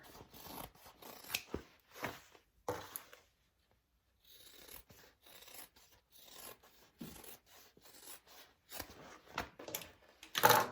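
Scissors snip and rasp through fabric while a crossbody bag is trimmed, short cutting strokes in quick clusters with a pause in the middle, close and fairly quiet.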